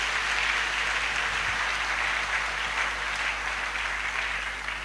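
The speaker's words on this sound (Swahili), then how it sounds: "Acclamons l'Éternel. Tumpikie wa milele makofi." A church congregation claps together in steady, sustained applause that fills the room at an even loudness throughout, with no voices rising above it.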